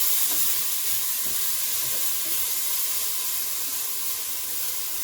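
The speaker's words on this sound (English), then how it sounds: "the meat is starting to brown. I'm just going to give it a stir" Beef browning in a pan for pot roast as it is stirred, a steady loud sizzling hiss of frying meat with faint scraping underneath, continuous throughout.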